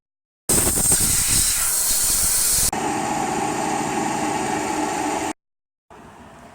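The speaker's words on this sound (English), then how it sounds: "So I'll just give it a good blowout and clean around that filler plug." Compressed air blasting around a transmission filler plug on a Chevrolet Cruze 6T40 automatic during a fluid service, a loud continuous hiss in two long bursts, then a brief fainter puff.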